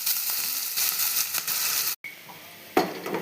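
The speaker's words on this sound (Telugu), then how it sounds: "ఆయిల్ వేసుకోండి ఆయిల్ ఇటెక్కిందండి ఆనియన్స్ పచ్చిమిర్చి వేసుకుందాం" Onions and green chillies spit and crackle in hot oil, a loud, dense sizzle close at hand. It stops for a moment and then picks up again with a sharp burst.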